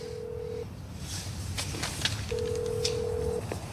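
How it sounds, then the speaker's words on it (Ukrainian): A phone call goes unanswered: a short burst of dialing tones, then long steady ringback tones repeat at a moderate level, with faint background noise and no voices. "Я не можу йому додзвонитися."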